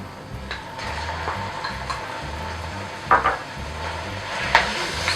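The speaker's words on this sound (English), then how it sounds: "Stir to break up the pork." Ground pork frying in a pan with softened onions for chili, giving a quiet steady sizzle under occasional scraping and knocks of a spoon stirring and breaking up the meat.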